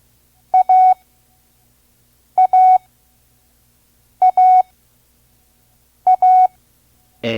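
Four repetitions of a clear tone pair at 5 words per minute, a short beep followed by a longer one, Morse code letter A, evenly spaced and crisp.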